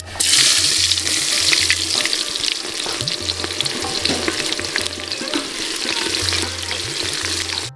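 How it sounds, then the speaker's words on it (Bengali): Chopped onions frying in hot oil with whole spices such as fennel, red chili, bay leaf, cinnamon and cardamom, a loud steady sizzle with stirring scrapes throughout, over a low intermittent hum, outdoors in a village setting. "বন্ধুরা এবার আমরা খানিকটা কাটা পেঁয়াজ দিয়ে দেবো।"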